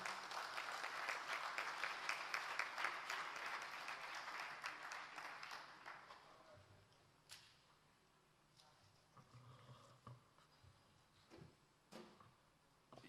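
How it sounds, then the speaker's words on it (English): Conference audience at a public wealth management event applauding loudly for about six seconds before the clapping dies away, leaving a quiet hall with scattered knocks and faint movement. "Please make your applause louder."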